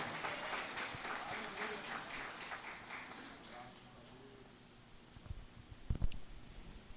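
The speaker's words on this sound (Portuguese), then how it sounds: "Dê uma glória a Deus para o Senhor e aplauda a Deus." A church congregation claps together in a steady, dense patter that fades out after about four seconds, followed by a few louder thumps and knocks.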